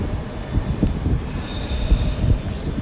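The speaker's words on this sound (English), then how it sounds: "Looks to be in the far distance another IET and another TfL train coming in." Trains arriving at London Paddington station on the Great Western Main Line, including an IET and a TfL train in the far distance, giving a steady low rumble of rolling stock with faint wheel squeal and no talk.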